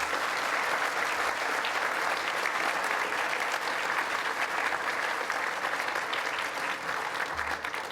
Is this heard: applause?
yes